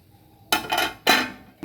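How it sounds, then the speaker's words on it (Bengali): A metal lid clanks twice onto a cooking pot of vegetables, pumpkin, potato and drumsticks, simmering in water: two sharp, close clatters about half a second apart, each ringing briefly before fading. "এবার আমি ঢেকে দেব।"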